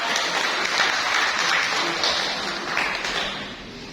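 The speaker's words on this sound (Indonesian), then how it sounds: "kita beri aplaus yang meriah" An audience at a scripture reading contest breaks into loud, sustained applause, a dense wash of clapping that fades slightly toward the end.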